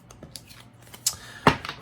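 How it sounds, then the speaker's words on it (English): A Marseille tarot deck with a robin's-egg-blue back being shuffled, giving a few brief papery riffles and soft card slaps over a second or two, close and fairly quiet. "So this actually shuffles really nicely,"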